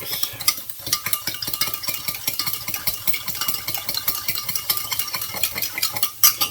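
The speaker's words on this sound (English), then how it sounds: "Get yourself a fork. Give it a mix." A fork stirs a small mixture of stock in a bowl in a caravan kitchen, making quick, steady light tapping and scraping strokes close by, with no talking.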